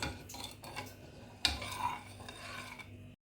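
A spoon stirring an instant yeast and sugar mixture in a small bowl, faint scraping and clinking strokes close by with one sharper tap midway, then abrupt silence.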